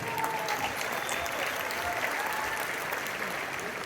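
An audience claps continuously at a motivational stage talk, a thick steady roar of many hands at constant loudness from start to finish, with faint crowd noise underneath.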